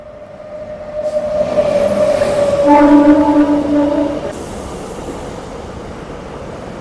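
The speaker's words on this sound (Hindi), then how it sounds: "और एक हाई स्पीड ट्रेन क्रॉसिंग," A high-speed electric train crossing past on an Indian line, a loud rumbling rush that swells in, holds with sustained tonal whine from the wheels and motors, then drops away to a quieter background.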